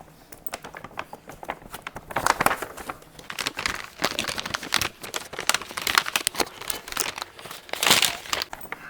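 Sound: packaging crinkling while unboxing a toy car

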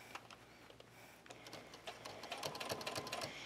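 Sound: sewing machine stitching a buckle strap

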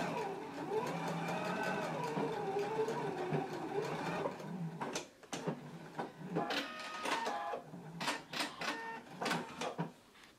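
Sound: sewing machine stitching pant pleat lines with backstitch

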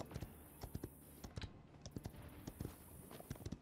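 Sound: horse mount hooves in the video game Paladins

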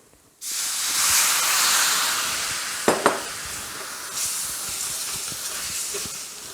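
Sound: water poured into a hot pan

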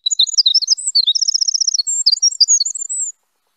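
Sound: winter wren song

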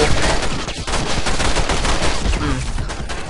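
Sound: gunfire in The Matrix: Path of Neo video game

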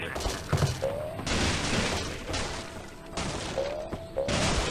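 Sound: detonator explosion in Angry Birds Seasons video game

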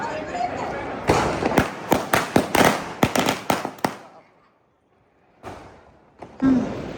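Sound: firecrackers bursting

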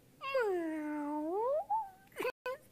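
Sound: voice imitating a cat meowing

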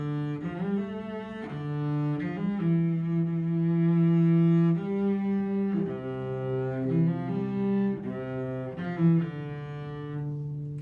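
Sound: cello playing bright high notes

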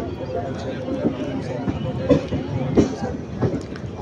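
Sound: train running slowly on the track

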